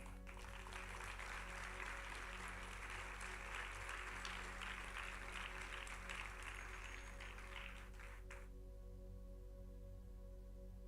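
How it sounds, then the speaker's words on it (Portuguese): A church congregation applauds in a sustained burst of clapping that runs for about eight seconds and then cuts off, leaving a steady low hum. "Aplauda o Senhor."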